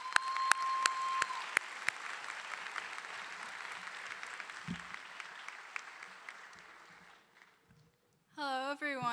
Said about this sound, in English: join me in giving her a big round of applause